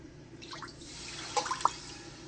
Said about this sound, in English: I'm going to add the coconut milk.